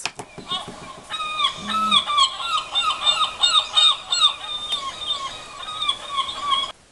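A toy beach house sound-effect button plays seagull cries, a run of repeated squawking calls over faint background hiss.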